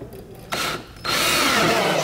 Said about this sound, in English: So I've drilled my holes.